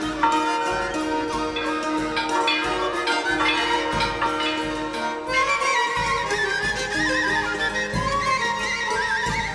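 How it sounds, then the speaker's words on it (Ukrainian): Church bells ring for Easter in Kosmach, Ukraine, in 2015, a bright, layered peal of overlapping tones that sounds steadily and fairly loud throughout, with no speech. "Малинова мелодія дзвонів по всій Україні, по всьому світі сповіщає про прихід Великого Дня"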